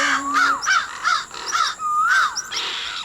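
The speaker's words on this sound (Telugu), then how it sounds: "ఈ కాకులు గోలా పడలేకపోతున్నాను." Cartoon crows caw in the Motu Patlu animated series, a loud, close run of about half a dozen harsh calls in quick succession with no talking over them.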